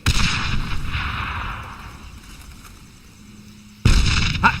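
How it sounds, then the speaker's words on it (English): Stick grenades explode in the video game Darkest of Days: a heavy blast opens, its rumble fades over a few seconds, and then a second loud detonation hits near the end. "These are standard issue stick grenades. Just aim and let them fly."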